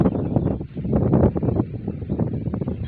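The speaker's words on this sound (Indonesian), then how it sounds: "Anginnya sangat kencang, tapi di sini terhalang kangkung-kangkung." Gusty wind rumbles against the microphone at a tilapia fishing spot sheltered by water spinach, a loud, unbroken low roar that swells and eases.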